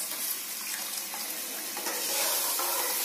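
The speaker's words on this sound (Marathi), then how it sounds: "आपल्याला पाहिजे त्या प्रमाणात आपण त्यामध्ये पाणी ऍड करणार आहोत" Water pours steadily into cooked dal in a pot while sambar is being made, a continuous close splashing rush that holds for the whole stretch with no talk.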